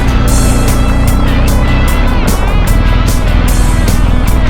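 Motorcycle riding along a beach on Galveston Bay, a loud close engine drone with wind buffeting and rhythmic pulsing throughout.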